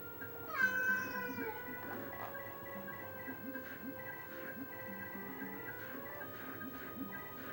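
A cat gives one clear, close meow with a bending pitch, then stays faint beneath a steady electronic retro game music bed.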